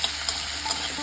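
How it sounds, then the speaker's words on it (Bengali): Garlic fries in a pan with a soft, steady sizzle and a few faint crackles over about a second, quiet and close with no voices. "রসুনটা একটুখানি অল্প ভাজা হলে আমি পেঁয়াজ কুচিটা দিয়ে দেবো।"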